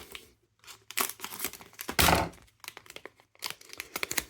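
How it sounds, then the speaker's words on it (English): A plastic package holding a weedless spinnerbait being cut open, with close crinkling and snipping, a sharp tearing rip in the middle, then more quick crackles of handled plastic. "I'm just going to cut it open."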